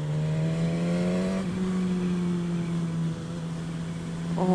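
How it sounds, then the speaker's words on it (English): 2015 Suzuki GSX-S1000 ABS motorcycle engine, a loud, close, smooth whine holding steady then dropping in pitch, with a fresh rev rising at the end, no voices. "That engine is actually smoother than mine."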